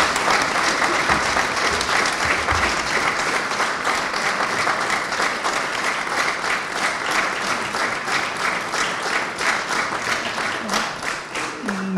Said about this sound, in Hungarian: Megérdemli a hosszú tapsot